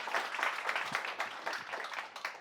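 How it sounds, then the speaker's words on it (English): Audience applause during a music session on maqam modes, a fairly quiet, loose patter of clapping that ebbs and swells over a couple of seconds, no one speaking. "Big round of applause."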